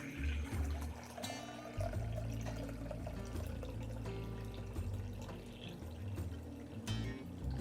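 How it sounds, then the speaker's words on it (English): About three and a half cups of water are poured into a container while mixing a homemade cleaner, a steady close trickle and splash that swells and eases in uneven pulses. "So we're going to pour."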